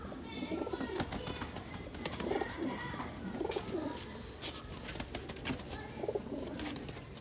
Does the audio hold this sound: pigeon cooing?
yes